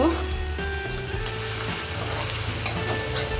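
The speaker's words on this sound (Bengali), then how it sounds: "লোতে নিয়ে আরেকটু নেড়ে নিচ্ছি" Onions for chicken biryani frying in a pan while being stirred, a loud continuous close sizzle with scraping stir strokes throughout.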